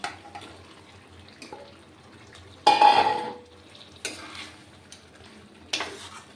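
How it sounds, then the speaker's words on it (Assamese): Chicken with fried spices, tomato and green chillies being stirred in a pan, giving several bursts of scraping and sizzling a few seconds apart, close and fairly loud, with a quieter frying hiss in between. "অলপ ভালকৈ লাৰি দিওঁ। চিকেনখিনি ফ্ৰাই হ'ব লাগিব।"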